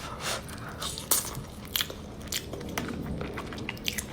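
Soft potato from a kaldereta stew being chewed close up, with wet crunchy bites and brief crackles over a low murmur, and no talk.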